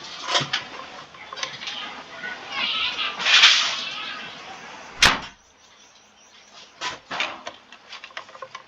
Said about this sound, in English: See if I can try to close that door.